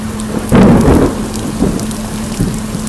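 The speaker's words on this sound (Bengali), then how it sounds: "হঠাৎই জোর বৃষ্টি শুরু হয়ে গেছে" Loud, close rumble of thunder bursts over a constant roar of heavy rain in the Sundarbans, followed by fainter rumbles as the downpour continues.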